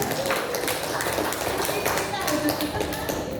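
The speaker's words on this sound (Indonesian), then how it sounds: "Kita berikan tepuk tangan yang meriah" An audience claps after a Minang drama performance on stage in Bengkulu, a dense and lively patter of many hands with voices heard over it.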